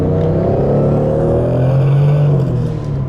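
A 1997 Toyota Supra's engine pulls hard in second gear, its loud, close drone climbing steadily in pitch across the whole stretch with a faint whine on top and no voices.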